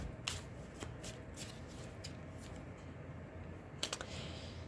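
Tarot cards are shuffled by hand in a series of crisp riffling bursts, soft and close, with a sharper flurry near the end and no talk over them.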